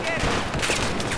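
Loud, dense rapid gunfire in a Battlefield 4 match, a continuous fusillade close to the player with voice chat underneath.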